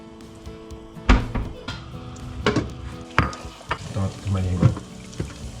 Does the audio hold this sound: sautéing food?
yes